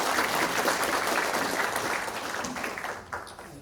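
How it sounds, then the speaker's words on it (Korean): Audience applause at a local council policy forum, a dense steady wash of many hands clapping that slowly tapers toward the end, fairly distant and without talk. "서덕태 의장님께 다시 한번 큰 박수 부탁드리겠습니다"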